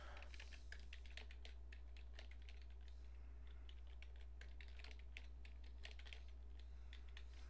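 A password being typed on a computer keyboard during Windows Server 2003 domain controller setup: a steady run of close, crisp key clicks over a constant low hum, with no talking.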